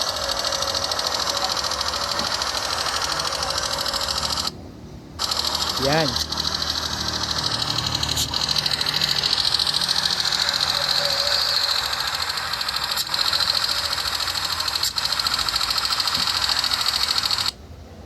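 A Yamaha Nmax V1 scooter engine runs steadily through the whole stretch with a shrill, cricket-like chirping whine over its hum. Someone speaks briefly over the noise.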